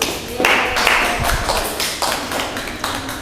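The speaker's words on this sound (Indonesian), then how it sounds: "kita berikan aplaus" Audience applause for a group presenter at a university teaching session, a few pairs of hands clapping close by in uneven bursts with dull thumps.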